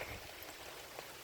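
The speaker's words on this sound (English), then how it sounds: "Beautiful, beautiful rain for my houseplants." Rain falls on house plants in a soft, steady hiss of drops, faint and even, with a slightly louder patter now and then.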